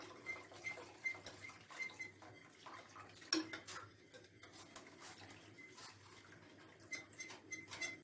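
Spoon scraping and tapping around a bowl while a yogurt mixture is stirred with cold water for Turkish yayla soup, with soft irregular clinks and swishes, quiet and close, one sharper knock near the middle.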